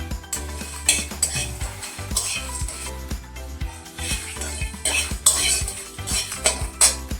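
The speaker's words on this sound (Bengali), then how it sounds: "গরম মশলা, শুকনো লঙ্কা, ধনে আর জিরে হালকা একটু গরম করে নেব, নাড়িয়ে নেব" Garam masala, dry chillies, coriander and cumin are dry-roasted in a pan, stirred with a utensil that scrapes and clinks against the metal in a busy, continuous rhythm, close up with no talking.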